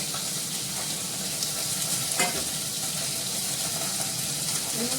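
Cauliflower sizzles steadily as it fries in a pan with green chillies, with a continuous crackling hiss and occasional soft stirring scrapes close by.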